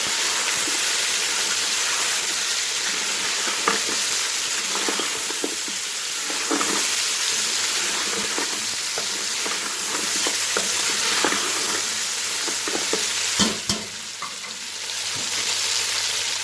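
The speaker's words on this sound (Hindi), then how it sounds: "अब हम इसमें बीफ ऐड कर देंगे। इसे डालकर हम अच्छी तरह से भून लेंगे।" Beef frying and being stirred in a pot for pulao, a steady loud sizzle with intermittent scraping stir strokes throughout, no voices.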